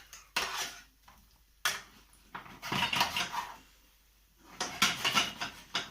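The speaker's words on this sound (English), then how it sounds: "I'm just going to use my fish slice, and I'm just going to give them a nice turn" Potatoes being turned with a metal fish slice through hot melted butter and oil in a pan, giving a few scraping, clattering bursts of metal on pan separated by quiet pauses, close and fairly soft.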